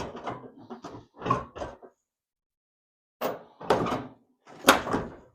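A few heavy, muffled clunks of a 1979 Plymouth Volare wagon door being pushed and latched shut, close by, with short gaps of quiet between them.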